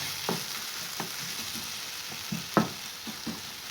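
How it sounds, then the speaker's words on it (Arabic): Parsley and quiche filling sautéing in a pan, a steady soft sizzle with a few brief stirring scrapes and clicks, close and fairly quiet, no talk. "نخليه مزيان يتشحر"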